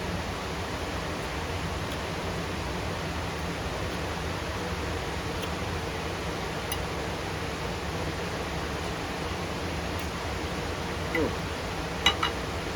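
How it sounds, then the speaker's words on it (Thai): A waterfall outdoors gives a steady, even roar of falling water that runs unbroken throughout, with a couple of small knocks near the end. "เสียงได้ยินอยู่นี่เสียงน้ำตกเลยจ้ะ"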